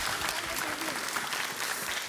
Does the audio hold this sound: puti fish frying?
no